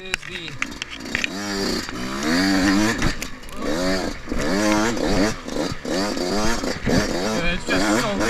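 A brand-new 2021 Yamaha YZ125X two-stroke dirt bike in fourth gear at about two-thirds to three-quarters throttle, its engine rising and falling continuously in loud revving sweeps throughout.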